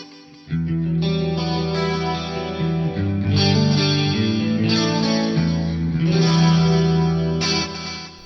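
Guitar chords played through a TC Electronic G Major 2 effects processor with parallel-routed reverb, loud and sustained with shimmering, washy ambience and slight modulation, strummed chords changing every second or so with no talking.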